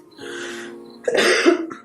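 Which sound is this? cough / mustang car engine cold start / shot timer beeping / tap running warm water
cough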